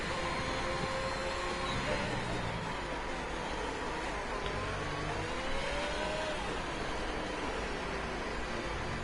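In a racing video game at Mexico, a race car engine whines and climbs in pitch, dropping briefly at shifts between fifth and sixth gear, loud and continuous under faint talk.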